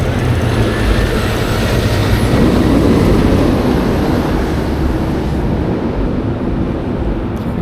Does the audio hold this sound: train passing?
yes